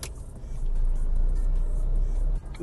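2004 Ford Fiesta 1.4 TDCi diesel car driving, a steady low engine drone and road rumble from inside the cabin that swells briefly then drops off near the end, with no talk.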